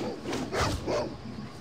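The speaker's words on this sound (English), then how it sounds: "Yeah, a wild dog, okay." A wild dog in Baldur's Gate gives a few short, close barks and yips in quick succession, set against a low game background.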